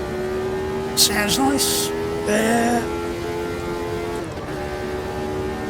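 Racing car engine in the Automobilista 2 sim, a steady droning hum with tonal harmonics running throughout at moderate level, briefly interrupted by short bursts of brighter noise, with a voice talking over it.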